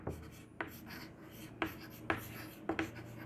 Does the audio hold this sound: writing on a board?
yes